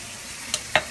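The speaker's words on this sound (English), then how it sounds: "I'm using a spatula to stir" A spatula scrapes through chicken fricassee in a pan over a steady low sizzle, with two short sharp scraping knocks close together.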